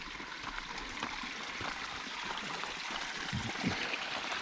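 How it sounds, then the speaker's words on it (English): A small mountain creek in the Alpine Lakes Wilderness flows steadily with a soft, continuous watery rush and trickle, fairly close, with no voices. "Oh, that's a neat little creek."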